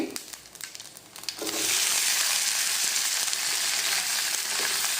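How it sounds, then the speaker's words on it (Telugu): Green chilies hit hot oil already crackling with mustard, fenugreek and cumin seeds for a guava chutney, and after a quieter second or so a loud, steady, close sizzle fills the rest of the clip with no talking. "పచ్చిమిర్చి వేసుకుని ఫ్రై చేసుకుందాం"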